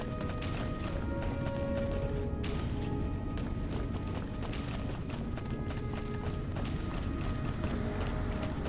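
In Fallout New Vegas, a continuous grinding, creaking elevator mechanism with ratcheting clanks runs steadily at moderate volume throughout, without pauses.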